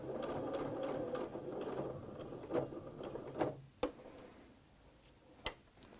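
A sewing machine stitches a placemat with a quiet, fast mechanical whir and ticking that slows and stops, followed by a few sharp clicks, close and faint with no voice.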